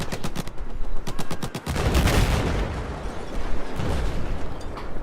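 LSAT light machine gun firing in Battlefield 4, a rapid burst of sharp automatic shots at the start followed by a rumbling explosion-like roar that lingers and fades.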